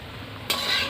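A spoon scrapes and stirs bhola fish curry in a hot pan, a brief sizzle that swells into a louder frying hiss.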